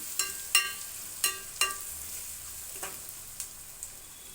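Onions sautéing in a pan for a crab curry, a soft continuous sizzle punctuated by a handful of sharp clinks and scrapes from a spoon against the pan, close and fairly quiet with no talking.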